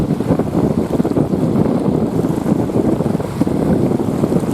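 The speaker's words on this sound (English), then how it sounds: "Fair old bit of wind right enough." Strong wind blowing across a cold snow-melt mountain lake, a steady roaring buffet against the microphone that does not let up, with no voices heard over it.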